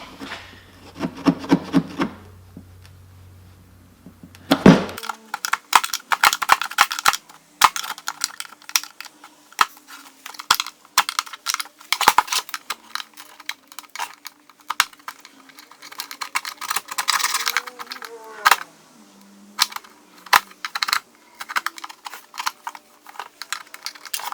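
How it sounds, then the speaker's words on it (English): Old RTV sealant being scraped off an engine part with a plastic scraper, with close, irregular bursts of scratching and scraping strokes after a brief low hum at the start. "now let's scrape this old RTV. I'm just using a plastic scraper here."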